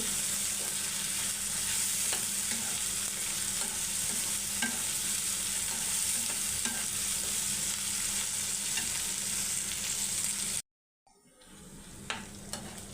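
Dried lotiya fish (shutki) sautéed and stirred in a pan gives a steady, dense sizzle with frequent scraping and stirring clicks for about ten seconds, then cuts off abruptly to a quieter kitchen.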